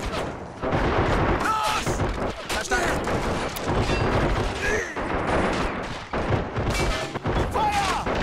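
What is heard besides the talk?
gunfire in the video game Men of War Assault Squad 2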